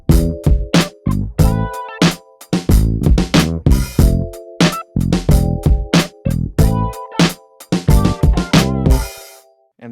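Neo-soul drum groove on a kit, punchy kick and snare hits with accented hi-hat patterns and an open hi-hat splash closing each two-bar phrase, loud and close with a laid-back, syncopated feel.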